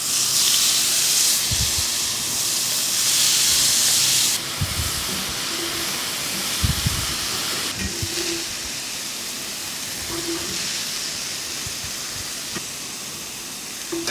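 Chicken sizzles in hot oil in a pan, a steady loud hiss with faint pops and a few soft knocks, no voices over it.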